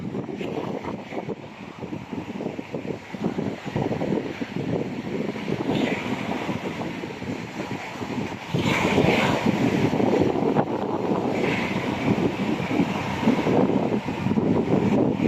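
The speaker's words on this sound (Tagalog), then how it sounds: "Malakas ang alon" Rough surf churns continuously as a storm approaches, growing louder midway, mixed with gusty wind buffeting the microphone; no voices.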